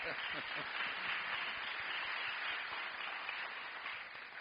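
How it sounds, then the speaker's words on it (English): A big round of applause for a panel at a summit, dense steady clapping from a sizeable audience filling the space at an even level throughout, with faint voices mixed beneath. "a big round of applause for our panel"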